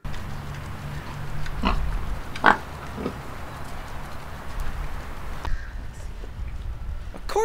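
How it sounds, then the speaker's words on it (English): Truffle hogs grunt and snort in short scattered bursts over a rustling background, with a few sharp thumps and snuffles close to the microphone. "You need truffle hogs to sniff them out."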